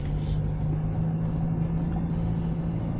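A 2025 Toyota Land Cruiser 4x4 grinds through mud with a continuous low engine rumble and steady drone, close and unbroken, with no talk.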